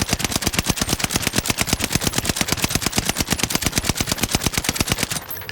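An NZ-41 assault rifle fires a long, unbroken full-auto burst in a shooter game, with evenly spaced, loud, close shots rattling for about five seconds before stopping abruptly.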